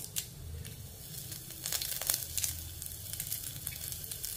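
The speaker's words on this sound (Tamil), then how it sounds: "இப்போ வெந்தயம் கொஞ்சம் பொரிஞ்சுக்கிட்டு வருது" Fenugreek seeds, cumin and curry leaves frying in hot oil in a pan, a steady soft sizzle with crackling pops and brief spits throughout, close and alone.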